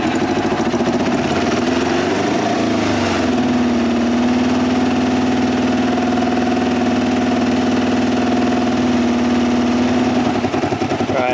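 A Kawasaki Ninja EX500 motorcycle engine, fitted with pod air filters and waiting on new gaskets, starts on choke and settles into a loud, close, steady idle with a constant throb, no voices.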